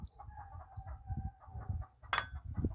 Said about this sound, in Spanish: ahí andan ya las gallinas cacaraqueando